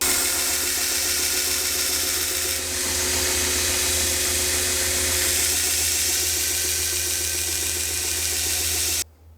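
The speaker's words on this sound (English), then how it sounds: "I'm gonna go ahead and fire the grinder up and do 400 grit." A 2x72 belt grinder runs steadily with a 400 grit belt while sharpening a knife, a loud continuous whirring hiss with an abrasive rasp, cutting off abruptly at the end.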